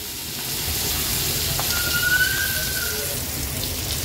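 Pieces of hilsa fish fry in hot oil in a pan over a low gas flame, giving a steady, dense, close sizzle that crackles evenly throughout with no speech.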